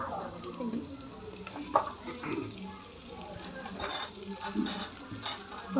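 Four medium onions frying in oil in a pan for chicken curry gravy, a steady sizzle with intermittent scraping clicks of a spoon stirring, a person speaking over it.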